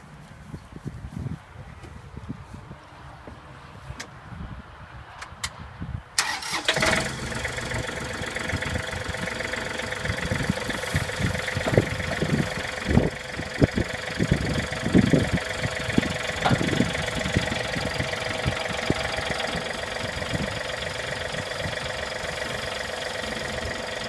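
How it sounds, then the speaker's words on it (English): A John Deere 3000 or 4000 series tractor with a front end loader is quiet at first, then its engine starts at about six seconds and settles into a loud, steady idle with a rough knocking rhythm. "Then we'll have to start the tractor back up."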